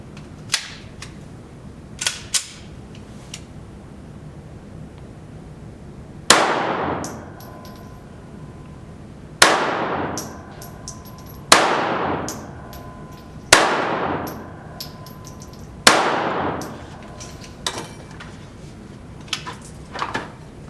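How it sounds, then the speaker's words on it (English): Sharp gunshots from an S&W .380 EZ pistol at an outdoor range: a couple of distant pops, then about six loud, ringing close shots spaced one to two seconds apart, each with a bright metallic decay. "We're going to go ahead and just shoot a few rounds"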